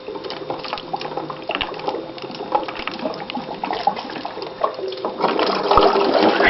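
Water swirling out of an upper bottle into a lower one, a continuous close gurgle and splash that grows busier and louder toward the end.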